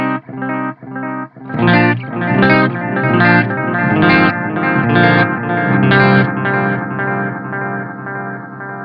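Gritty electric guitar chords through a Strymon Timeline digital delay pedal, strummed in a steady rhythm, each one trailing into repeating echoes that blur together, loud and without any talking.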